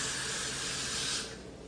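Hair spray hisses in one steady, close burst while a lace wig is being installed, then cuts off and fades to a quiet tail near the end.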